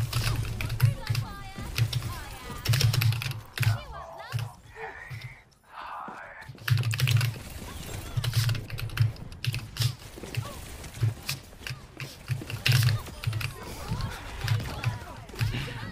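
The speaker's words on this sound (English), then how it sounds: "those keyboard noises" Rapid computer keyboard typing clatters in bursts of quick keystrokes, mixed with excited voices talking and shouting over an online game.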